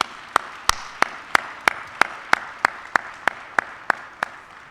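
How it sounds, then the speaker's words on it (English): Sharp, evenly spaced claps at a steady beat, about three per second, at a school signing day celebrating students, with a soft crowd murmur underneath. "Let's give our students a round of applause as they take this next exciting step in their lives."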